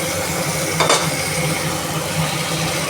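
Boiled pointed gourd, ridge gourd and papaya tipped into a hot spice sauce in a pan, giving a steady close sizzle with a brief scraping, stirring clatter, no voices.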